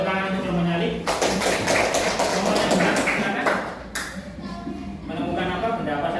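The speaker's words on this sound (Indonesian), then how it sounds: "Tepuk tangan untuk kelompoknya Alif" A classroom group of young children claps for a classmate's team in a lesson on sound-making objects, a dense burst of close, loud claps that tapers off, with children's voices mixed in.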